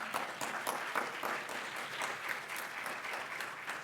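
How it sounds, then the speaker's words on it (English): An audience at a medical didactic lecture breaks into applause, a dense, continuous patter of clapping heard from within the room, fairly soft and holding evenly to the end. "one round of applause for awesome"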